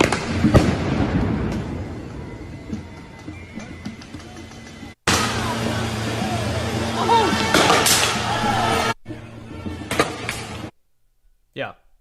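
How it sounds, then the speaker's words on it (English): Fireworks lobbed over a fence at a street protest burst in a series of loud, sharp cracks and booms with crackling tails, close by, over a noisy outdoor crowd with voices. "They're lobbing fireworks over the fence."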